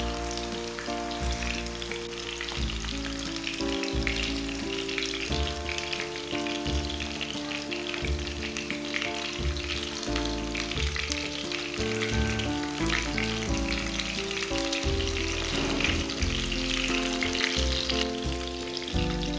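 Beef seekh kebabs fry on a hot griddle with a steady, loud sizzle that stays constant throughout, with occasional soft stirring and turning sounds.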